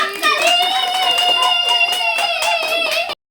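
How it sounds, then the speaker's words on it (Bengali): Hands clapping together during a lively family party game, a steady burst of applause with bright overlapping voices and cheering running throughout, ending abruptly. "সবাই জোরে হাততালি দাও।"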